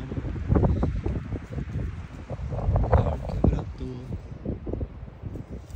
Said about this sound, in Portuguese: Tá ventando, ó.